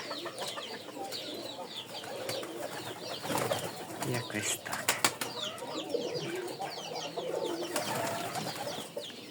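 Pigeons coo and murmur continuously in a busy loft, layered soft calls with occasional flutters, while a person briefly talks.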